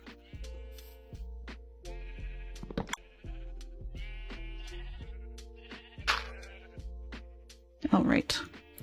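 Sheep bleating up close on a farm during wrangling: several wavering calls overlap in quick succession, loud and near, with a person talking among them.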